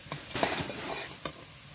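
Garlic and turmeric sizzle in mustard oil in a wok, a soft close frying hiss broken by a few quick stirring scrapes, with no talk.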